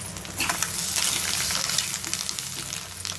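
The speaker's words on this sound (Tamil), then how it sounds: "டாஸ் பண்ணிட்டீங்கன்னா ஸ்டர் எக் ஃப்ரை ரெடி ஆயிடுச்சு." An egg stir fry seasoned with pepper powder sizzles loudly and continuously in a pan as it is tossed. The crackling frying noise runs close and steady for the whole stretch.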